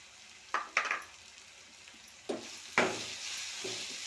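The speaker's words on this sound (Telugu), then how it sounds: "ఇంకొంచెము ఎర్రగడ్డలు ఫ్రై చేసుకోవాలి. ఆనియన్ బాగా ఫ్రై అయిపోయింది." Onions fry softly in a pan with salt, turmeric, pepper powder, chili powder, coriander powder and garam masala for an egg dish, a faint sizzle broken by a few sharp stirring scrapes and knocks.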